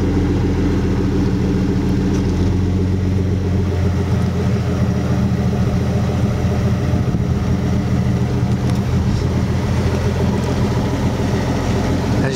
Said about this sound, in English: Glass pack exhaust sounds pretty good for what it is.